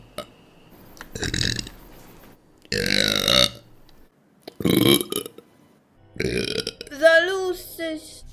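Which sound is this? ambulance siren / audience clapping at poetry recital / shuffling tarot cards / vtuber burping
vtuber burping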